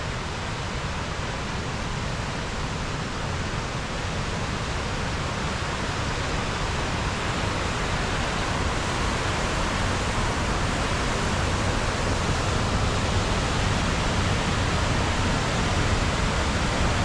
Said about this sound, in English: See the water flowing over there.